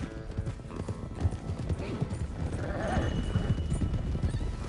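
Rapid, rhythmic hoofbeats of horses galloping in the video game Red Dead Redemption 2, loud and close, with a whinny and a swelling rumble of movement; no speech.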